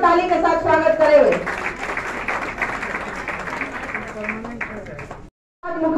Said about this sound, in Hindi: कार्यकर्ता जोरदार ताली के साथ स्वागत करेंगे